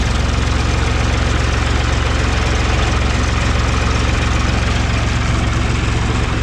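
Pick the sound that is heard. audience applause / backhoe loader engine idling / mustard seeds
backhoe loader engine idling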